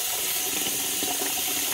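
Hot water running from a tap, a steady close splashing gush that continues evenly for the short stretch without talk.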